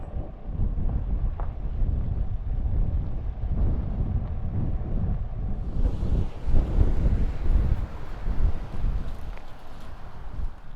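Wind on a Colorado mountaintop buffets the microphone in a steady, heavy low roar that grows gustier partway through, with no voices over it.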